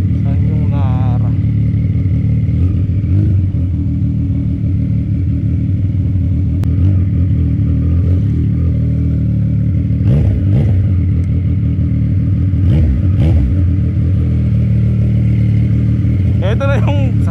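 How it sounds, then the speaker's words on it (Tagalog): Motorcycle engine running steadily, close and loud, on a ride to Binangonan, Rizal, with wind rumble and occasional clatter underneath while people talk over it. "Ito na yung motor ni paring Darwin."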